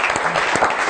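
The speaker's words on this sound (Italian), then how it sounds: "facciamo un saluto e un applauso a Michele," A brief burst of audience applause at a regional Italian sports federation gathering, steady dense clapping lasting under a second.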